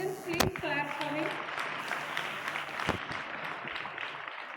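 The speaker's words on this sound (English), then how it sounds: "Students, please clap for him." Students clap for a classmate awarded a gold medal at a school Republic Day ceremony, a moderate, steady patter of many hands heard from a distance, with brief voices near the start.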